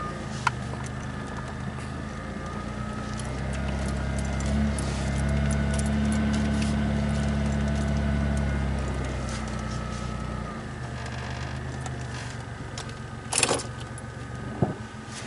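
A 1995 Chevy Lumina with a 4T60-E automatic transmission creeps slowly up onto a ramp, its engine giving a steady low idle-like hum that swells gently and then settles, with a couple of faint clinks near the end.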